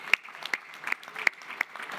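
Scattered applause for hotel staff at an energy summit in Kern County, a thin, sparse round of a few distinct claps, fairly quiet and spaced unevenly.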